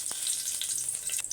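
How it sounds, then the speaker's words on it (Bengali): Cumin seeds sizzle in hot oil left from frying fish, a soft steady hiss with faint crackles, close and quiet. "এবার আমি মাছ ভাজার তেলে দিয়ে দেব কয়েকটা জিরে"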